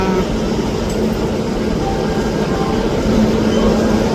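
A train at Vijayawada Junction, platform four, fills the air with a loud, steady broadband rumble that holds evenly throughout without a break.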